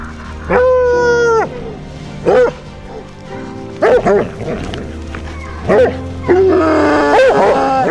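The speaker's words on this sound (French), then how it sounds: "Les chiens arrivent à la mort, ils ont leur récompense." Hunting dogs bark and yelp excitedly at the close of a wild boar hunt in the Charente countryside, several sharp barks and whines in bursts through the clip, fairly close, with people talking in between.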